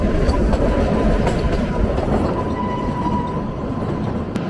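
Shimla toy train on its mountain run in Himachal, a steady, loud, continuous rumble of rolling wagons with faint rhythmic wheel clatter and a brief high tone, no talking.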